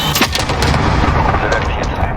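A cruise missile launches and strikes its target in a combat video game, a dense roaring blast with sharp cracks and booms layered over continuous loud rumbling.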